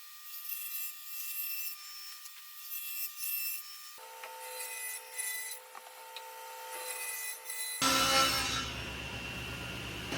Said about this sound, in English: Now I can cut out my 4 3¼ inch wide fence parts.